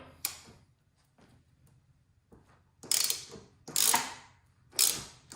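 A wrench ratchets while loosening the 30mm fork top caps on a Triumph Daytona 675. Several sharp clicking bursts are heard close up, with quiet gaps between them.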